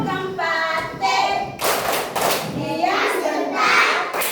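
A class of children claps hands together in a burst of sharp, rapid claps, with a teacher's voice and children's speech around it.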